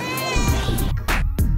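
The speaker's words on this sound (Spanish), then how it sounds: "es un miau." Cat meows used as a sound effect, several short separate calls repeating over about a second and a half, loud against a steady background.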